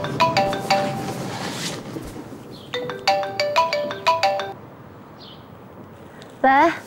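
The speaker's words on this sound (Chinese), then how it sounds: "电话。" A phone ringtone plays a bright repeating melodic chime in two bursts, close and clear, with a short voice at the end.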